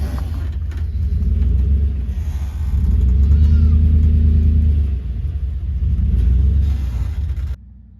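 A vehicle reversing up a homestead driveway while hauling a load of hay, its engine giving a loud, close, low rumble that swells and eases before cutting off near the end.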